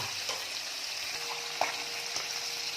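Fresh soft-fleshed fish frying in a covered pan with garlic, a dense, even sizzle and crackle filling the clip, close and steady, with a few faint knocks and no talk.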